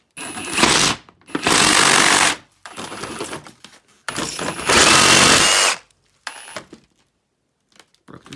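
A Ryobi brushless reciprocating saw with orbital action on cuts through an aluminum drum head, loud harsh buzzing in three long bursts and a short fourth, with pauses between.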